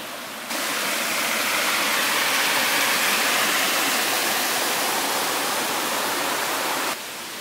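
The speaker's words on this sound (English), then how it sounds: "this little river, or little creek I should say" A small creek runs over little waterfalls near Tugboat Bay Beach, a steady broadband rush of flowing, splashing water that holds even and fairly loud throughout, with no voices.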